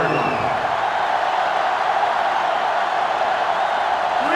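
Simulated stadium crowd roars in the NCAA 06 college football video game during a Virginia at Miami matchup, a steady, dense wash of sellout-crowd noise that holds at an even level throughout.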